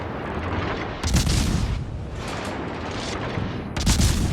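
Heavy naval guns boom in a World of Warships: Legends sea battle against the cruiser Wichita, a dense rolling barrage with loud salvos bursting out near the start and again near the end.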